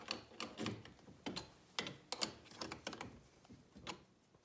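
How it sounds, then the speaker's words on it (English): A nylock nut is tightened with a ratcheting tool, giving a quick series of close, quiet clicks and metallic ticks at an uneven rhythm. "So you'll notice as I tighten this, I tightened it enough so that the nylock locking part was engaged"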